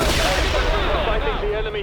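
Artillery fire pounds without a break in the 2007 video game World in Conflict, a dense loud rumble of gunfire and impacts. Faint voices come through underneath.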